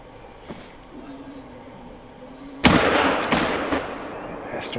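Rifle shot fired in the hunting video game theHunter: Call of the Wild, a single loud sharp blast that follows a quiet stretch with faint background tones, then a short echoing tail and a smaller follow-up report.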